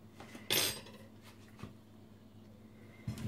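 Chicken, potatoes and vegetables tossed with spices in a bowl, with a few sharp utensil clinks against the bowl over a quiet background of soft rustling.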